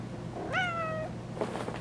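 A cat gives a single clear, drawn-out meow, fairly close and loud over a quiet room hum, followed by faint soft rustling.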